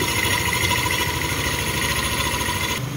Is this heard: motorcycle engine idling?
yes